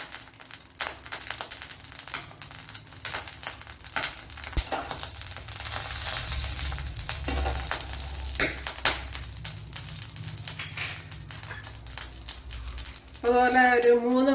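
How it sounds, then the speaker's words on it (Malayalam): Mustard seeds sizzle and crackle in a tablespoon of hot coconut oil in a pan, a steady close frying hiss with scattered pops, getting a little louder toward the end. "കടുക് ഇട്ട് കൊടുക്കാം."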